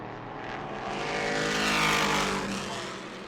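Sunbelt Series race cars and trucks howling past on the New Smyrna track, the engine roar swelling to a peak midway and then fading as they pull away, with no talking.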